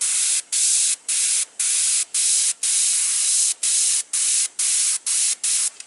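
Airbrush spraying paint while painting eyes, a bright hiss in about a dozen short bursts separated by quick gaps, close and fairly loud.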